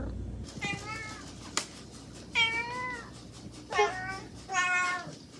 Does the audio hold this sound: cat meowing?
yes